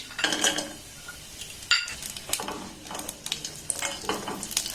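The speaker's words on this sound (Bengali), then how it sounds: "আমন্ডটাকে একটু নাড়াচাড়া করে ভেজে নেব।" Almonds stirred and fried in a pan, a soft sizzle broken by quick irregular scrapes and clinks of a spatula against the pan, close and moderately loud.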